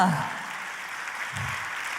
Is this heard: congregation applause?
yes